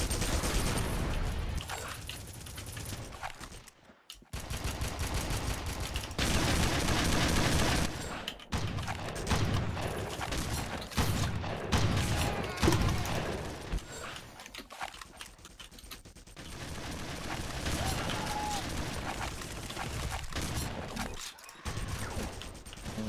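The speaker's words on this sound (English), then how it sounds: "Oh, my shotguns is so powerful." Shotgun fire in a video game: loud, repeated booming blasts over dense, continuous game noise, with brief near-silent gaps between bursts.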